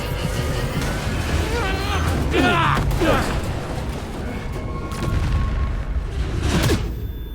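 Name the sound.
explosion in video game S.T.A.L.K.E.R. 2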